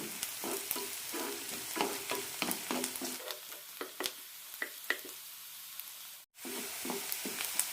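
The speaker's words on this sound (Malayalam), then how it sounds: "സവാള ചോക്കാൻ തുടങ്ങിയിട്ടുണ്ട്" Sliced onion browning in a pan for egg curry, a soft steady sizzle with repeated scraping and stirring strokes close by, briefly broken by a short gap.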